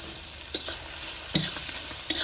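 Chopped capsicum, tomato, chilli and peas sautéing in a pan for vegetable masala Maggi, with three brief stirring scrapes over a faint, steady sizzle.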